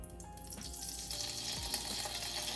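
Coconut cream sizzles softly in a pan over medium-low heat, a faint, steady crackling fry with small pops and light stirring noises.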